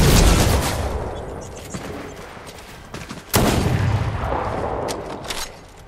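Rapid bursts of modded gunfire in a Fortnite match ring out loud and close, with a sharp volley near the middle and steady shots around it, while a player talks over the gameplay.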